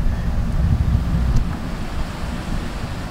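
Wind gusts across a golf course, producing a rough, rumbling buffet on the microphone that swells and then eases slightly.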